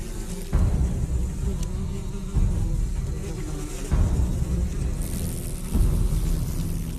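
Assassin wasps swarming a yellowjacket hive make a loud, continuous, droning buzz that swells in waves, with deep rumbling surges every couple of seconds and no voices.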